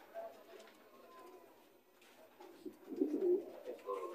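A Shirazi (Lahori Shirazi) pigeon coos in soft, low, rolling phrases close by, growing fuller toward the end, with faint background voices in the room.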